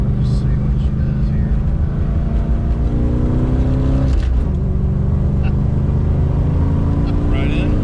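Silver Sport Transmissions test mule car accelerating hard through the gears, a loud, close engine roar rising in pitch with a brief dip at a shift midway before climbing again.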